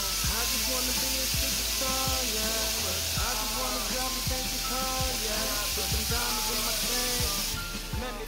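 Shrimp sizzling loudly in a hot pan with Asian-style orange sauce, a dense continuous hiss broken by a regular series of sharp clinks and taps from stirring.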